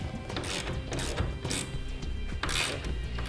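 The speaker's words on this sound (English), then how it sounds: "now using a half-inch socket, we'll go ahead and tighten down our hardware to our bed protectors first" A half-inch ratchet socket wrench tightens hardware on a B&W headache rack with bed protectors, fitted to a 2015 Chevrolet Silverado, giving a steady run of close mechanical clicking with a few louder bursts and no talk.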